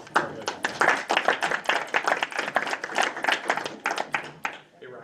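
Several people clap at a town board of aldermen meeting, a loose, uneven patter of hands with distinct individual claps, fairly close and moderately loud.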